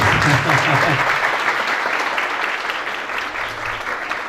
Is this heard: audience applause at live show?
yes